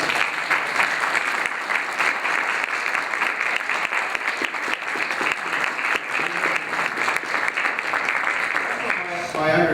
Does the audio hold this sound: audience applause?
yes